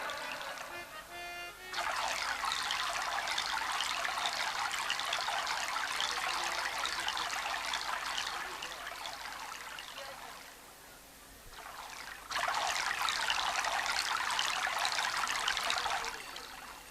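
Water runs and trickles steadily out of holes in a clay pitcher, a bright continuous splashing that fades briefly near the end and then comes back, no voices.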